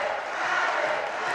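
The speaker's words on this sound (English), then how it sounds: "Very noisy from the Stang crowd." Loud, noisy crowd at a boys' high school basketball game against Bishop Stang, a dense continuous roar of cheering and shouting with no pauses.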